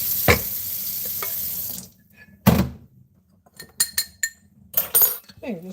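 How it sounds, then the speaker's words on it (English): Soaking water pours off raw chicken into a kitchen sink, a rushing splash that stops abruptly, followed by scattered clinks, thunks and knocks of pots and utensils close by. "So I'm going to drain out that agua"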